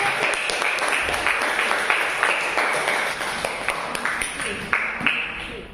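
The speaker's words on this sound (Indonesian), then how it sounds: "tepuk tangan buat kelompok." Classroom audience clapping for a student group after its presentation: a bright, brisk patter of many hands with distinct individual claps standing out, continuous for several seconds and fading slightly toward the end.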